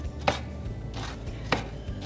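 Food is chopped with a knife on a board while chocolate crepes are prepared for a New Year table, two sharp, close knocks about a second apart with quiet room sound between them.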